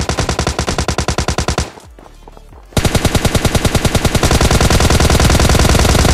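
Rapid automatic gunfire from PUBG Mobile Lite gameplay, a loud rattling burst that drops out for about a second before a denser, even louder stream of shots resumes and runs to the end.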